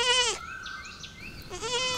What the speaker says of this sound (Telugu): ఈ గొర్రె పిల్లకి కేకలు ఎక్కువ అవుతున్నాయిరా